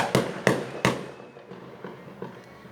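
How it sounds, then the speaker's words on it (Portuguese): Fireworks set off nearby, three sharp loud bangs in quick succession followed by fainter, more distant pops and crackles, with no speech. "acabaram de soltar uns fogos aqui perto"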